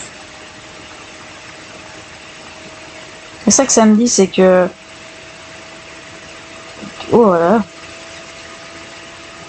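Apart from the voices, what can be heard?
device vibrating strongly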